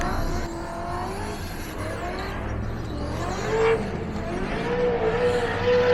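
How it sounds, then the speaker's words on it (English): Team Associated RC cars drift around a track, high whining motors rising and falling and tires scrubbing in a continuous, fairly loud rush of passing cars. "Some drifting going on. Pretty cool sounding cars."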